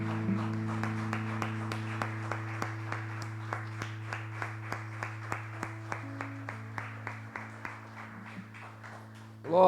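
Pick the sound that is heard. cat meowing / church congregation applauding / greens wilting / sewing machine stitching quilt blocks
church congregation applauding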